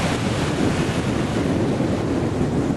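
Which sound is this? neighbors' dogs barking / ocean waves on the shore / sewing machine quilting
ocean waves on the shore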